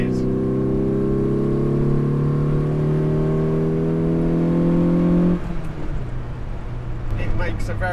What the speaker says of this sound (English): It makes a very nice little noise for a four-cylinder.